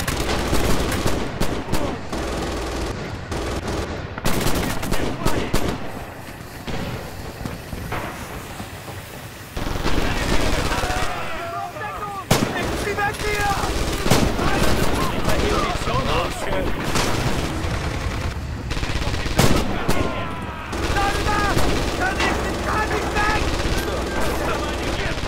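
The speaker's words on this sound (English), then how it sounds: "They're shooting now." Sustained gunfire in Red Orchestra 2, rapid rifle and machine-gun bursts with distant artillery-like booms, loud and continuous, with brief talk.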